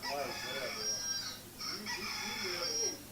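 Chickens clucking with a rooster crowing through most of the clip, steady and fairly close, with a short dip in the middle and faint voices under the birds.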